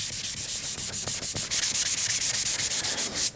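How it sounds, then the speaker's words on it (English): Sandpaper scrubs gray primer off a Precision Bass guitar body in quick, steady back-and-forth strokes, close and loud with a rhythmic rasping pulse and no talk. "as I'm sanding off this gray and exposing the underlying white primer"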